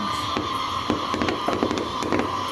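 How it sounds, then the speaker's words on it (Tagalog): Fireworks bursting in a quick series of sharp cracks and pops over a steady background hum, moderately distant. "Those fireworks! Wow!"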